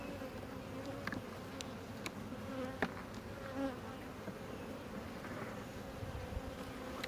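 Honeybees buzz around hive frames during queen cage removal, a soft, steady droning hum with individual bees passing close now and then, quiet and without talking.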